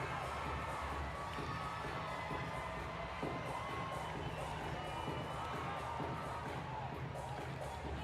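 A sold-out stadium crowd at a football game in Nashville cheers with a dense, continuous roar of voices and whoops, distant and steady throughout.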